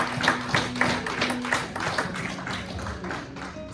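A church congregation claps in praise of the Lord: a steady run of quick, sharp hand claps at a lively even pulse with a sustained organ-like tone beneath, gradually thinning toward the end.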